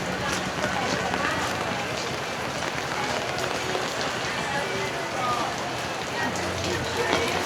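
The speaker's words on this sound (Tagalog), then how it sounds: "Ulan pa rin." Steady rain pours over the Divisoria street market, a dense continuous patter that holds evenly throughout with no clear voices above it.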